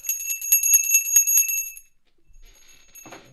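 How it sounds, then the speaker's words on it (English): A bell rung on a livestream: a quick series of bright, ringing strikes, close and fairly loud, fading out, then a brief faint rustle. "If everyone wants the bell, I can do the bell for you."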